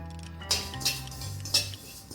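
Caraway seeds being dry-roasted in a pan rattle faintly as a spoon clinks against the metal in a few light taps, close and quiet, with a low hum underneath.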